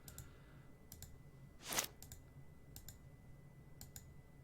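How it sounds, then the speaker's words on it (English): Sharp, quiet computer mouse clicks scattered irregularly across a hushed background, with one brief louder burst of noise in the middle. "Sorry for all the clicking."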